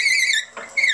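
High, whiny squeal of wood spinning on a lathe while a small finial tenon is cut, a steady tonal whine with a brief break midway before it returns, close and alone.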